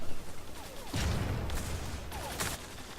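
Gunfire in the online shooter Zula bursts in around the one-second mark as a dense, loud volley, then a second flurry follows near two and a half seconds, each stretch of shots fading into a muffled game background.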